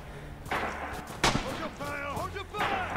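Gunfire in the WWII shooter game Red Orchestra 2: Stalingrad, with a sharp loud shot near the middle and other thumping reports under ongoing player voice chat.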